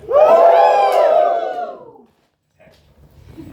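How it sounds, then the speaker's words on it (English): An improv theatre audience in Glasgow lets out a loud burst of cheering and whooping for about two seconds, which quickly fades to near silence. "Give me a cheer if you were here for the first show."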